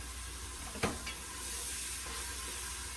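Moro, rice with red beans, cooking in seasoned oil in a pan, a steady soft sizzle and hiss with a single clink of a utensil near the start, quiet and without voices.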